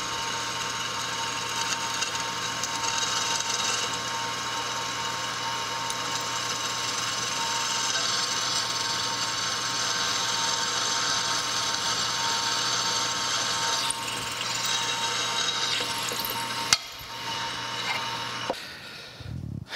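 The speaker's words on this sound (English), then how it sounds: "All right, to the drill press, we'll drill these out." A drill press drilling holes in tapered cross head keys for a steam stoker engine whirs steadily with a constant motor hum for most of the clip, then winds down near the end.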